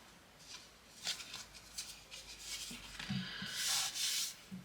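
Paper card stock being creased and folded by hand for a scrapbooking card, giving soft rubbing and crinkling sounds in short bursts, with a louder scraping fold near the end, close and quiet.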